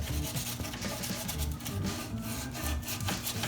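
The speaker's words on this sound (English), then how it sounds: "dry sanding" Steady rasping scrape of sandpaper dry sanding chalk-type painted wood, rubbed back and forth, continuous and close.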